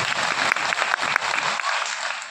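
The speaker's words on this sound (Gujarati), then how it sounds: "આપો તાળીઓનો ગડગડાટ બે હાથ ઊંચા કરીને" Audience applause with raised hands at a Gujarati community gathering, a dense, steady wash of clapping filling the room for the whole stretch, thinning slightly toward the end.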